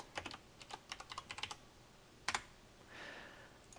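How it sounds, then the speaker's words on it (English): Computer keyboard keys pressed in quick bursts during Photoshop work, a cluster of about a dozen crisp clicks followed by a pause and a couple of louder taps, close and quiet, no voices. "Control, Alt, Shift, and N on your keyboard."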